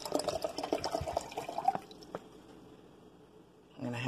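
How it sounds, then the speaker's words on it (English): Purified water poured into a variable-temperature tea kettle, a steady splashing trickle for about two seconds that fades to quiet, then a brief louder clatter at the end. "pour in. Now this is 20 ounces of water."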